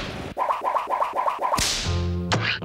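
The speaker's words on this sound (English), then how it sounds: "the crack of the whip is the tip breaking the sound barrier." A whip cracks once, a sharp, loud snap from the tip breaking the sound barrier, following a run of rhythmic swishing strokes, with ringing tones afterwards.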